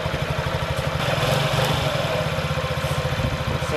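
A 2017 Honda Ruckus scooter engine idling close by, a steady, even putter with a fast regular pulse that holds constant throughout, with no voices over it.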